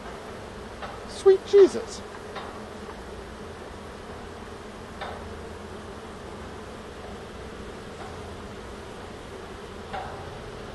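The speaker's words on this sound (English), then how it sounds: "The hive seems to have calmed down a little bit since I've been gone." A honeybee hive gives off a steady, dense buzzing drone close by, and one person speaks a brief exclamation early over the constant hum.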